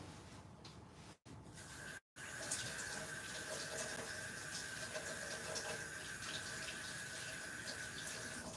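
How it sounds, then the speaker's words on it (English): Tap water runs steadily into a sink while rice is rinsed for an Egyptian beef and tomato stew, a continuous close splashing rush broken by two brief cut-offs in the first seconds, with no talking. "Give the rice a nice wash."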